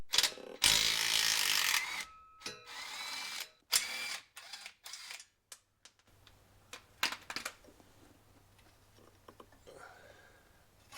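Plastic electrical connectors on an Allison transmission on a Duramax being unplugged, sharp close clicks and snaps as tabs are pushed, followed by softer scattered handling clatter.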